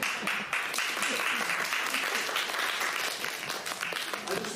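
Audience applause at a Synergy Theater stage show, a steady wash of many hands clapping together, fairly close and continuous throughout with no pause.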